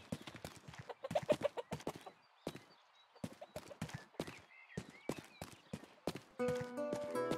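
A horse in the video game Rustler trotting, with clip-clop hoofbeats in uneven bursts and pauses, fairly close, with faint clucking chickens and a short musical sting at the end.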